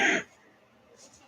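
A single short cough, then near silence, followed by a sharp throat-clearing burst at the end.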